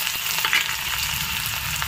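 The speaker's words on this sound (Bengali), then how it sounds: "এবার দিয়ে দেবো পেঁয়াজ কুচি" Chopped onion hits hot oil in a wok while cabbage Manchurian is being cooked, giving a steady, close, loud sizzling hiss that runs unbroken with no talking.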